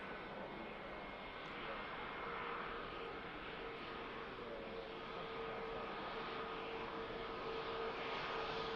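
An airliner at Manchester Airport takes the rapid exit taxiway, its engines a faint, steady distant roar that holds throughout without a break.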